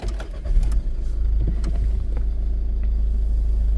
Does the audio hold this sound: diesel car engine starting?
yes